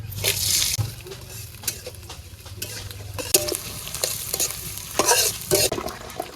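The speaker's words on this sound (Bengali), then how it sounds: "তেল দিয়ে দিলাম পিঁয়াজ কুচি রসুন কুচি কাঁচামরিচ কুচি দিয়ে দিলাম" Chopped onion, garlic and green chilli frying in oil in a village kitchen, a close hiss under bursts of spoon stirring and scraping against the pan, with brief faint voice sounds.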